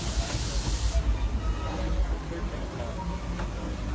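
The Disneyland Railroad's steam locomotive, the C.K. Holliday No. 1, lets out a loud, close hiss of steam for about a second, then settles into a steady mechanical rumble.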